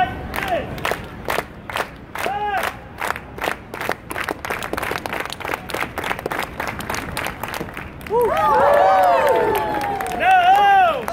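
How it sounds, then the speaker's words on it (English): A crowd claps together in a steady, even rhythm for several seconds, each clap sharp and close, before the clapping gives way to loud shouting and cheering. "Everybody clap like this!"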